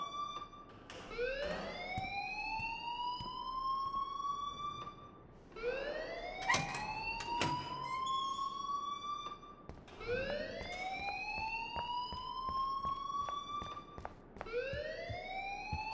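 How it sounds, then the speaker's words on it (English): A fire alarm in the Life Is Strange video game wails in repeated rising sweeps, each climbing tone lasting a few seconds before it resets, loud and steady with no talking. "please turn off that alarm since that's your job"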